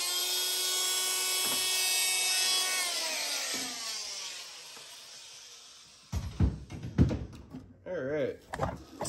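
Power tool cutting corners of a fiberglass hull on a 1974 Starcraft boat, a loud whirring grind with a falling pitch as it winds down, followed by rubbing and scraping noises and someone talking.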